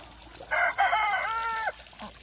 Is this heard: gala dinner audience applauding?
no